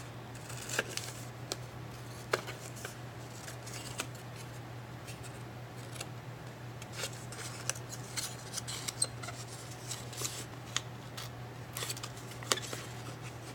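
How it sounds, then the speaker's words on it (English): Paper being cut with scissors for a monochromatic cityscape collage, heard as a steady run of faint, close snips and crisp ticks scattered over quiet room hum. "You have to pay really close attention when you're cutting if you want your artwork to be nice and neat."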